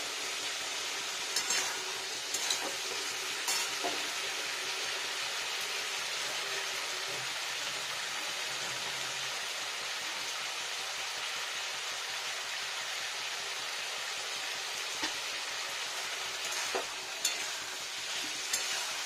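Fresh paneer cubes are stir-fried with spices, giving a steady, fairly soft hiss of frying with a few spatula taps and scrapes scattered throughout.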